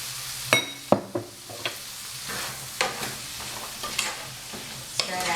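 Green beans and tiny potato pieces frying in a Madras curry in a pan, with a bright sizzle under repeated scraping stirs and clinks of the utensil against the pan, close and unaccompanied by speech.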